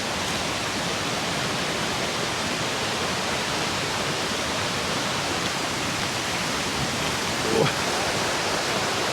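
A river rushes along the storm-damaged Tollymore forest park trail, a steady broadband roar of flowing water close by, constant throughout with a brief small knock near the end.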